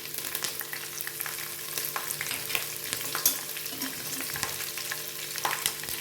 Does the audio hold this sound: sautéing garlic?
yes